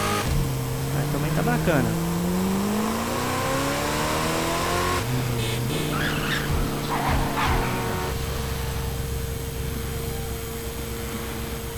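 The BF Injection dune buggy's engine, using a GTA V sound pack in GTA San Andreas, revs and accelerates in rising and falling whines, then settles to a steady drone while someone briefly talks over it.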